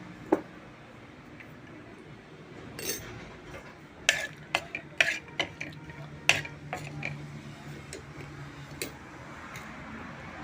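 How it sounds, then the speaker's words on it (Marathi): Raisins are stirred in hot ghee in a pan, a run of sharp spatula taps and clicks against the metal over a faint, steady background hiss. "आणि ह्या तुपामध्येही मी मनुका परतून घेते."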